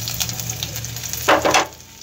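Ginger and garlic hit smoking-hot oil for a sour potato dish, giving a steady close sizzle with a brief louder crackling burst in the middle, no voices.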